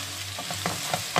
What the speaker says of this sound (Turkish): Şimdi baklayı böyle birkaç dakika kavrulsun. Birazcık kendi suyunu da salsın.